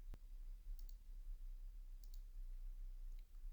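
A computer mouse gives one sharp, close click early on, followed by a few faint ticks over a quiet room hum, with no speech.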